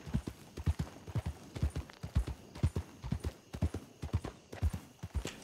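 A horse's hooves clip-clop steadily in the Red Dead Online video game, an even, quick trotting rhythm of close, distinct hoofbeats that continues throughout with no pause.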